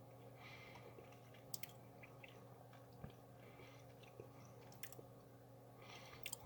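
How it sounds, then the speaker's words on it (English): Quiet close-up chewing of a spicy jelly bean, soft wet mastication with a few faint crunchy clicks spread evenly through a low background hum. "Still giving it a chew."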